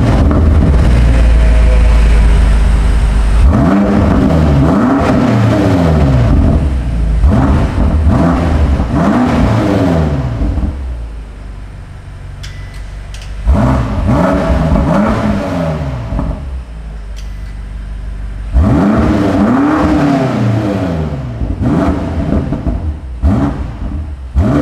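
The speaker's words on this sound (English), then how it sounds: "It's time to start this up for you with some rev shots." A 2020 BMW M8 Competition Convertible engine revving hard several times, loud and close, each rev rising and falling back to a rumbling idle between bursts.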